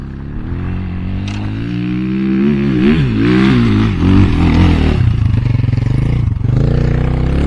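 An enduro motorcycle engine revs up and down close by, rising in pitch as it climbs a bump, with rattling and clatter from the bike over rough ground.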